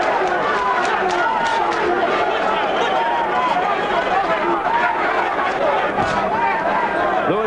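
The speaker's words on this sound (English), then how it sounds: "And the chants of Lewis from the crowd." A boxing crowd at a Lennox Lewis versus Tony Tucker fight chants for Lewis, a dense, loud, continuous roar of many voices in a large arena, with commentators talking over it.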